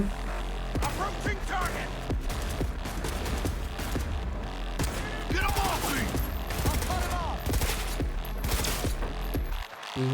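Gunfire in the video game Cyberpunk 2077: a long string of sharp shots, some in quick bursts, rings out over continuous game sound and music, loud and close throughout.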